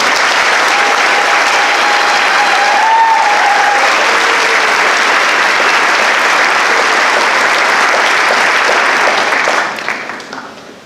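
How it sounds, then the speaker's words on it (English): An audience at a senior awards night applauds the seniors receiving honor cords with sustained, loud, steady clapping that carries on for about ten seconds before tapering off at the end. "Let's give all of our seniors receiving honor cords a round of applause"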